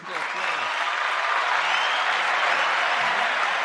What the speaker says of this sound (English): A little extra applause